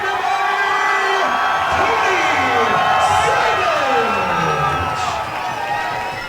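At a mixed martial arts event, a hometown crowd cheers fighter Tony Savage with loud, sustained shouts, whoops and roaring noise from the whole arena for several seconds.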